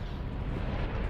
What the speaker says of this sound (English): One just exploded.